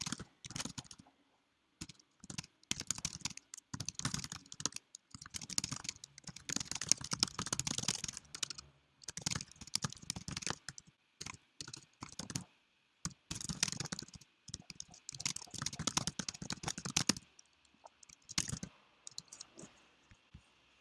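Long stretches of rapid keystrokes on a computer keyboard, coming in bursts separated by short pauses, close and clear with occasional clicks, no voices.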